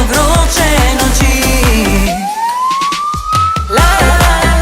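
Ambulance siren effect in a Slovenian dance-pop song, a single rising wail sweeping upward after a pounding beat breaks off, before the loud rhythmic music returns.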